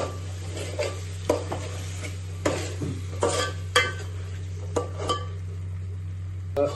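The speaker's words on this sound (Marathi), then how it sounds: "तर यामध्ये आपण जे मटण उकडलं होतं त्याच्या सूप सहित ह्या मसाल्यामध्ये मिक्स करूयात" A spoon stirs boiled mutton and its soup into masala in a pan, giving intermittent scraping clinks against the metal over a steady low hum, close and fairly quiet.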